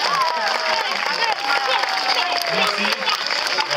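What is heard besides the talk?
audience applauding for Thomas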